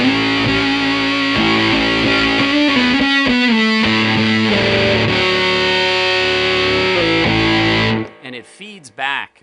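Electric guitar played through a JMI Tone Bender fuzz pedal at fairly loud volume gives thick, sustained distorted notes and chord changes for about eight seconds, then cuts off as someone begins talking.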